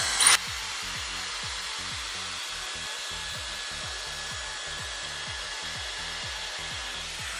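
A Dyson Airstrait hair straightener blows a steady, loud airflow whoosh while drying hair, after a brief click at the start, with a faint rhythmic brushing texture underneath and no talking.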